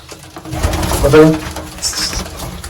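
Haifa pigeons in a loft give a short, low, throaty coo midway through, close by over a soft background rustle.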